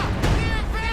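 Artillery shells land in a tank-battle video game match with an Su-85 on the field, heavy booms and crackling blasts packed together under a constant roar while a commentator talks over the top.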